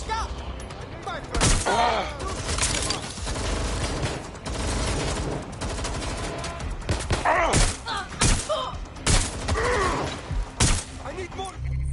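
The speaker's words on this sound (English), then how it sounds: "Taking fire! They won't stop shooting!" Enemies shooting in the video game Watch Dogs Legion: repeated sharp gunshots and short volleys, loud and close, coming in irregular bursts with voices talking between them.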